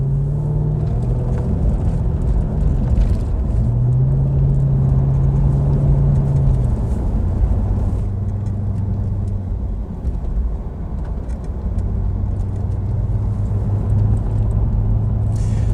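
A supercharged V8 Jaguar XKR (X100) engine hums steadily from inside the cabin, its low drone rising and falling gently with road rumble as the car drives along smoothly.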